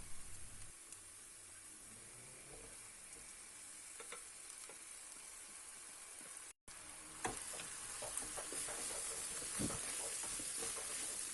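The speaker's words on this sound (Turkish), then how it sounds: "Soğanlar sotelendikten sonra hemen yan tarafta kavurmuş olduğum kıymayı tavanın içerisine aldım. Ortama 1-2 dakika daha kavuracağım." Minced meat and sautéed onions frying in a pan, a continuous close sizzle and hiss with occasional stirring scrapes and spatters, briefly cutting out midway before resuming slightly louder.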